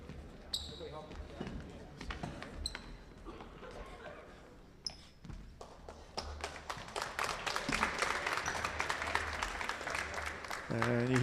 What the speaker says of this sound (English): The Jaguars were the ones that started that applause